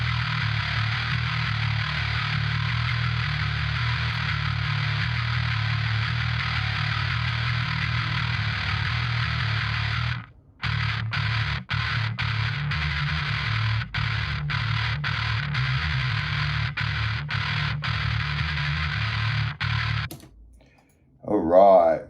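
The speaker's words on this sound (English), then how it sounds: "So bass sounds like this." A bass guitar runs through the Groovelab FX amp sim with a grindcore preset and compression, giving a dense, heavily distorted sustained growl that breaks into choppy stabs before a brief silence and a final burst.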